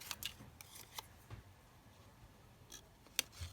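Scissors cutting 12x12 craft paper for a pocket, producing several short, crisp snips spaced irregularly, close and fairly quiet with no talking.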